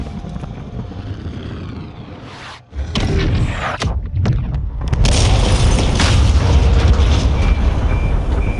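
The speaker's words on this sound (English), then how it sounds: "We're gonna take out the oil rig with the missile." A missile strikes and destroys an offshore oil rig in Call of Duty Modern Warfare, a loud roaring rush building into a heavy boom and sustained rumbling blast that fills the scene without speech.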